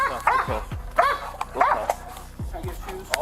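A police dog barks repeatedly and loudly close by during an arrest, the sharp barks coming in quick bursts while officers shout commands over them.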